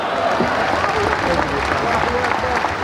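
An audience at a speech in Baton Rouge bursts into loud, sustained applause, a dense wash of clapping filling the room with crowd voices mixed in.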